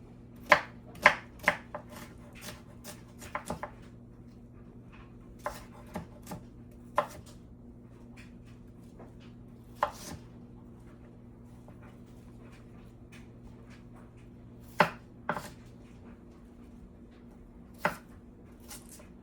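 Knife chopping onion on a cutting board, a series of sharp, fairly close taps spread irregularly across the clip over a steady low hum, with a dog nearby.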